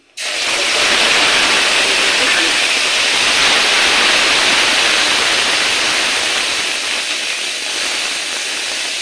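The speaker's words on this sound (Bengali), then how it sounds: "এবার ফোড়নটাও গরম হয়ে গেছে, এই সময় দিয়ে দেব ছোট একটা টমেটোর অর্ধেকটা দিয়েছি" Half a small tomato dropped into hot oil tempered with mustard seeds and black cumin, setting off a loud, steady sizzling hiss that starts abruptly and holds for the whole stretch.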